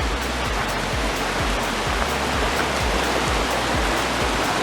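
A river rushes right beside a trail lodge on the Colorado Trail, a steady, loud broadband roar of flowing water filling the whole stretch with no voices.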